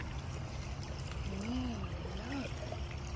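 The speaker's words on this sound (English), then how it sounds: "Oh, waterfall." A waterfall beside a swimming pool gives off a steady, even rush of splashing water, with a thin whistling tone gliding briefly over it.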